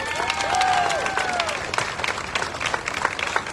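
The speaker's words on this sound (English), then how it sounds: "Let's have one more round of applause for all the red shirts." Audience applause for the red shirts at an apple festival ceremony, a crowd clapping steadily with a brief whistle near the start and a scattering of cheers.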